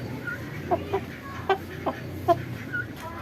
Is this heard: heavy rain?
no